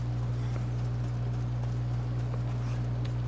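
A horse gallops in the video game Assassin's Creed Odyssey, its rapid hoofbeats clip-clopping evenly over a steady low hum, close and alone without talk.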